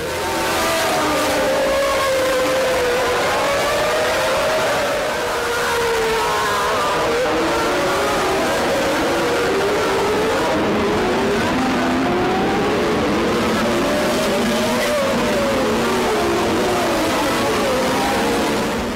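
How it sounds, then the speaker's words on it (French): Formula One cars racing at the Brazilian Grand Prix, with McLarens and a Boutsen car among the leaders: loud, continuous engine howls rising and falling as cars pass, heard over crowd and circuit noise. "Les deux McLaren et Boutsen semblent avoir beaucoup de rythme et creusent déjà l'écart"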